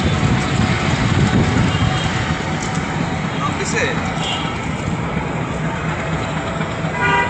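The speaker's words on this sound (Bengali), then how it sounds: "চারদিকে শুধু রেল জমা হচ্ছে আর মানুষ ভরে ভরে রেল দিয়ে যাচ্ছে" Trains at Dhaka railway station produce a loud, steady rumble of rail traffic over a busy crowd murmur, with faint horn-like tones late in the clip.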